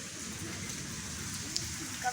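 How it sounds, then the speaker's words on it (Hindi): Heavy rain falls steadily as a dense, continuous hiss, close and even throughout with a faint tap near the end. "अभी जनाब इतनी ज़्यादा बारिश, माशाल्लाह काफ़ी ज़बरदस्त माहौल बन चुका है"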